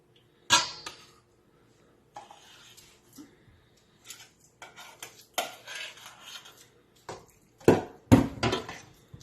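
A spoon scrapes and clinks around a bowl as cooled 7-grain cereal is mixed into a milk mixture for bread dough, in scattered bursts of knocking and stirring between quiet pauses.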